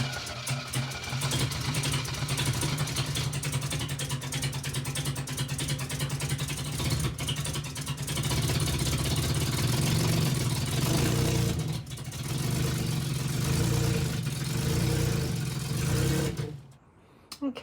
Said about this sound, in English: I'm going to put the original spark plugs back in just to see if this engine fires right up